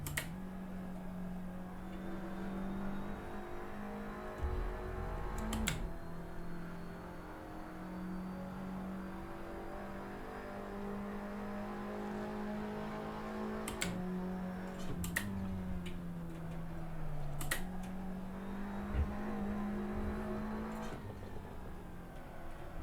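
A car laps a track in a racing sim game, its engine a steady humming drone that rises and falls gently with speed, punctuated by several sharp clicks and ticks from gear shifts or controls.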